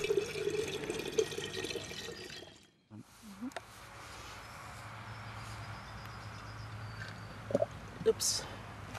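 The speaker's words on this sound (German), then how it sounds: "In zwei Gläser wird jeweils die gleiche Menge Wasser gegossen." Water is poured into two glasses during a soil experiment, soft trickling and pouring heard faintly under a voice, with a brief silent gap between pours.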